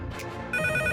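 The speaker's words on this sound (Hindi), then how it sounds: "शायद फोन बज रहा है।" Telephone ringing indoors, a bright electronic trill that starts abruptly partway through and repeats in quick pulses, loud and alone.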